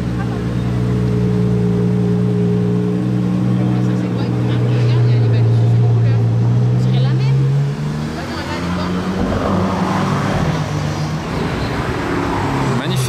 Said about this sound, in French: Et la 812 compétitionne maintenant à la tombée de la nuit.